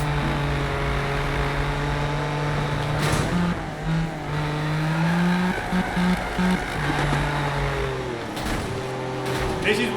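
A racing car in the Need for Speed (2015) video game, its engine droning steadily and shifting pitch through gear changes, with brief tire squeal, loud and continuous throughout.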